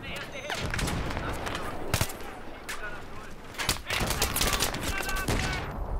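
Rapid bursts of gunfire and explosions in the first-person shooter Battlefield 3, with helicopters firing nearby; loud, dense and continuous, with sharp blasts throughout, under excited talk between players.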